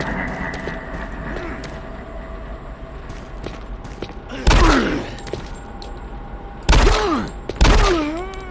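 Weapons fire in the shooter game DOOM 3 BFG Edition: three loud, booming shotgun-like blasts spaced a couple of seconds apart, each with a short decaying tail over an ambient mechanical hum, with no talking.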